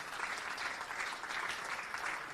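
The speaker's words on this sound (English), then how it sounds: "Please give a good round of applause for him." An audience at a mathematics conference's closing session applauds, with a steady, dense wash of clapping that sounds somewhat distant and soft throughout.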